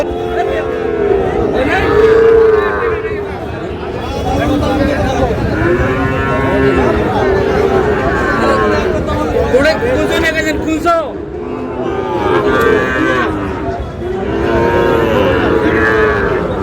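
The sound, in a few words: cattle mooing at livestock market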